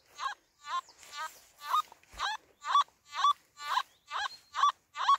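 A Simplex metal detector in all-metal mode, sweeping an agricultural field, squeals over buried iron: about ten loud, warbling chirps repeat in a steady rhythm, with no talking.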